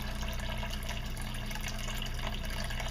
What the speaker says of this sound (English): we're going to add more hot water